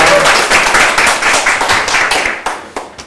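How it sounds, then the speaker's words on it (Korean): A studio audience claps for a guest author, fast and crisp rhythmic clapping that starts dense and loud, then thins into a few separate hand claps. "박수!"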